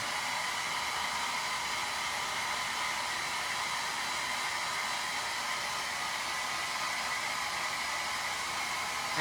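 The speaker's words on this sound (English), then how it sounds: "I know listening to the blow dryer is not awesome" A hair blow dryer runs steadily at close range, drying paint on craft foam sheets, a constant loud whooshing hiss with no variation and no voices.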